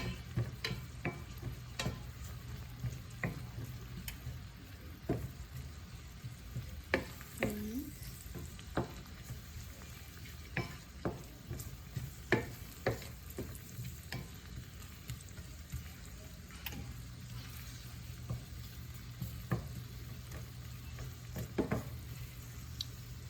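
Frozen bitter gourd with egg fries in oil with bacon in a pan. A steady close sizzle runs throughout, broken by frequent sharp scrapes and taps of a utensil stirring. No one talks.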